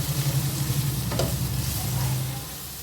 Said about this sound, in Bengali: অল্প একটু জিরের গুঁড়ো এখন একটু ভালো করে ভেজে নেব